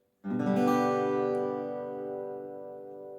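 A single open major guitar chord strummed once, ringing out full and bright, then slowly decaying over a few seconds with no other sound.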